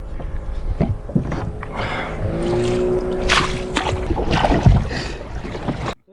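Kayak paddling on open water in Indonesia, heard as rhythmic splashes and water swishes with wind buffeting the microphone, fairly close and loud, with no speech.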